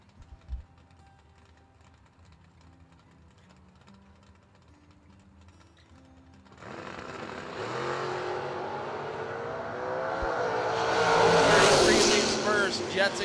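A 1968 Cuda and a 1986 Camaro launch in a drag race, engines rising from a quiet idle into a loud, sustained roar that peaks as the cars run down the strip.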